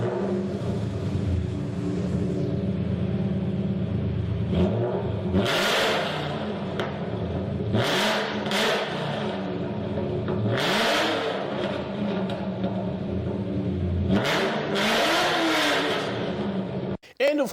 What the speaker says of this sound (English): You got a Cobra engine in there.